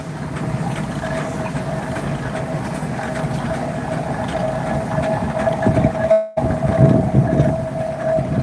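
A 1919 steam traction engine named Molly, built in Basingstoke by William Patterson, runs in a steam rally parade at Stradbally, giving a steady loud rumble with a sustained whistle-like tone and a brief dropout near the end.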